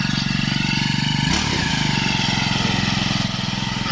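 A Honda UMK422 four-stroke brush cutter engine runs steadily at close range, a loud continuous mid-pitched drone with a rapid firing pulse and a slight shift in tone partway through.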